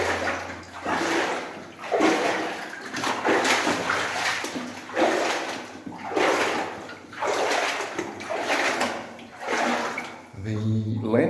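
Water sloshes and splashes in regular surges as someone wades through a flooded old gold mine in New Zealand, each stride making a loud rush about every two seconds, echoing in the tunnel.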